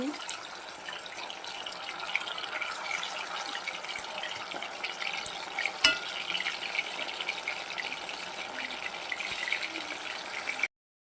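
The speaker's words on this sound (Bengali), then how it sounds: "এবার এগুলোকে তুলে বাকি মাছগুলোকে আমি একইভাবে ভেজে নেবো" Loitta (Bombay duck) fish frying in oil in a home kitchen, a soft steady sizzle with faint water-like crackle and a few small clinks, fairly quiet throughout.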